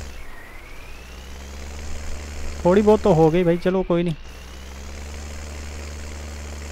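A tractor engine in Farming Simulator 19, a Swaraj 855 or New Holland 3630 making silage, drones at a steady idle throughout while someone talks briefly over it in the middle.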